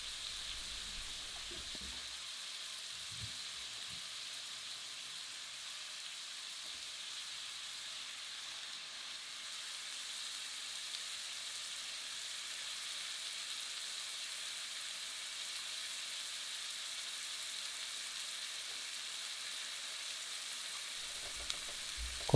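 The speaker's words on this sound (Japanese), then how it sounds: "ここでキューブに切ってた肉も一緒によく炒めていきます。" A veal chop and cubed meat fry together in a pan over medium heat, giving a steady, even sizzle and hiss that carries on unbroken with no talking.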